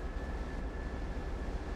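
A steady, low engine rumble from an MP36PH-C3 diesel locomotive in a train simulator game drones quietly throughout, with a faint constant whine above it and no other sounds.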